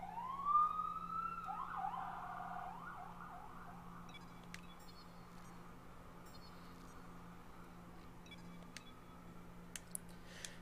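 An emergency-vehicle siren yelps in a rapid warble for about two seconds, then quickly fades into a low background hum, with a few faint clicks after.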